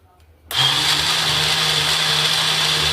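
A mixer grinder grinding coriander into paste kicks on abruptly and holds a loud, steady whirring motor drone with a bright, gritty blade hum throughout.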